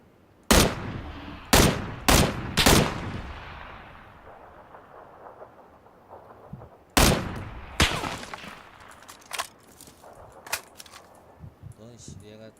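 Gunfire in the PUBG battle royale game: a quick cluster of loud, sharp shots early on, then another burst of cracks later, each echoing and decaying, with a player talking between volleys.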